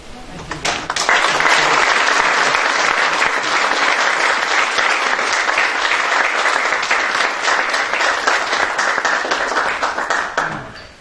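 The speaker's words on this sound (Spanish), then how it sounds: "Pues un aplauso." Lecture audience at an architecture chair event breaks into sustained applause, a dense wash of many hands clapping that swells quickly, holds steady for about ten seconds, then fades out.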